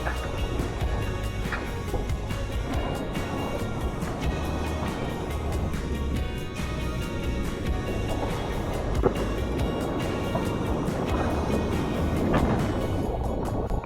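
Ocean waves breaking under an offshore wind on a tropical Nicaraguan coast, a steady broadband wash with wind buffeting the microphone throughout, continuous and fairly loud with no clear breaks.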